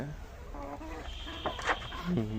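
A few short, throaty chicken-like clucks sound close by, rising into a louder cluck toward the end.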